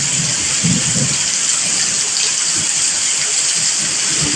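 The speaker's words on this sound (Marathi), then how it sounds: "आमच्या घराच्या पाठीमागे किती पाऊस चालू आहे बघा ह्या साईडिक जर बघला जोरदार पाऊस सुरू आहे" Heavy rain pours steadily behind a house in a Konkan village, a dense, continuous hiss with low rumbling spatters, loud and close with no talking.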